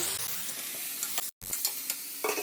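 Tomatoes hit a hot pan of mushroom curry base with ginger masala, giving a loud, steady sizzle and frying hiss with stirring scrapes, close up and without talk, broken by one brief cut.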